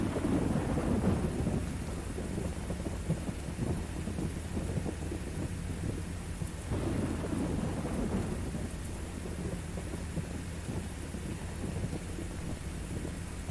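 Rumbling thunder and steady rain from a lightning storm in the Storm Chasers video game, a continuous low roll with heavier swells near the start and around the middle, with no talking.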